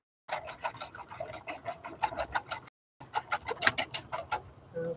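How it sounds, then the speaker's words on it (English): A whisk beats a Dijon mustard sauce with grated nutmeg in a bowl: fast, even strokes rattle close by, break off for a moment, then pick up again at the same brisk pace. "So let me give this just a tiny bit more of a whisk."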